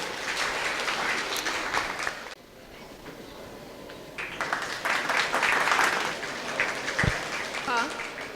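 Audience applause at a higher-studies scholarship ceremony, a loud sustained clapping burst that breaks off briefly, then swells again into dense clapping with some voices mixed in.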